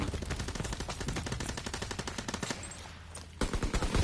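Rapid automatic gunfire from a World War II shooter game rattles on loudly in dense bursts, then breaks off briefly before a fresh volley of shots, with no talk.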